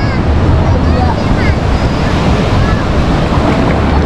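Ocean surf rolls onto the beach at Pulau Merah in southern Banyuwangi, a loud continuous wash of waves mixed with wind buffeting the microphone, steady throughout with no talk.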